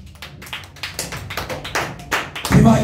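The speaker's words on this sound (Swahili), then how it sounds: "Pigia Bwana Yesu makofi" A church congregation clapping for Jesus, irregular overlapping hand claps building from scattered taps into a louder burst near the end, close and dry.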